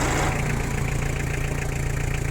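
A Japanese Kubota GT5 compact tractor with a three-cylinder diesel engine of about 23–25 horsepower and a mechanical injection pump idles nearby, a steady low throbbing rumble with an even pulse.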